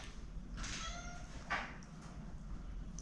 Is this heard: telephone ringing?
no